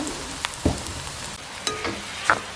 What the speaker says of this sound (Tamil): இப்படியே பார்த்து கிளறி விடுங்கோ.